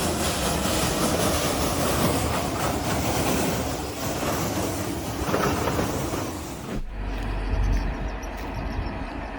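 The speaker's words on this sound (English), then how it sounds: "Rounding a tight curve, the Heisler locomotive lost traction as coastal morning fog left the rails slippery" A Heisler geared steam locomotive loses traction on a tight curve over fog-slick rails on a coastal morning, giving a loud, continuous rumbling roar that cuts abruptly near the end to a deeper low thump.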